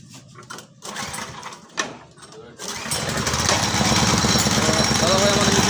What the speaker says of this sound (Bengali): আমাদের মেশিন স্টার্ট হয়ে গেছে।